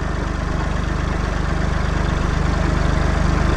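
A small tractor's engine idles close by on a cool morning, its regular low chugging firing pulses steady and loud, with no talk over it.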